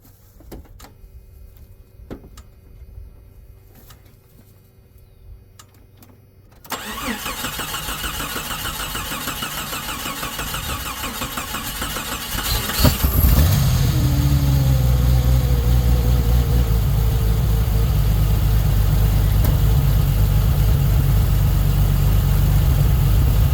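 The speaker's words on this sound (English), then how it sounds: "let's tickle the throttle a little bit" A 1987 Jeep Cherokee engine cranks and catches after a quiet start, then settles into a loud, steady idle that grows rougher and heavier partway through, heard up close without talk.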